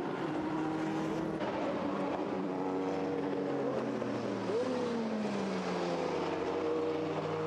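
Group C sports prototypes, a Peugeot and the Tic Tac Porsche 962, racing past during qualifying at the Silverstone Classic, a loud continuous engine roar with rising and falling pitch as the cars scream by together.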